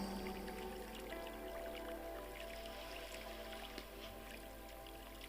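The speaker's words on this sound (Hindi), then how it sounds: "आप सुन पा रहे हैं इस नदी की कल कल करती हुई" A river flowing steadily past, its water babbling and trickling in a continuous, moderately close wash with small drips and splashes throughout.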